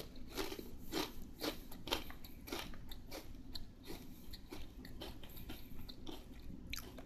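Close, steady crunching as someone chews pumpkin-flavoured Chip Star potato chips, with repeated crisp bites in a fast, even rhythm and no talking.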